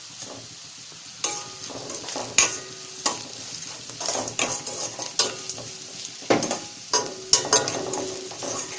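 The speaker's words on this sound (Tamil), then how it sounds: "வெங்காயம் வந்து நல்லா வதங்கிருச்சுங்க" Onions fry with salt in a pan for beetroot poriyal while a spoon scrapes and stirs them in repeated sharp strokes over a continuous soft sizzle, close and without talk.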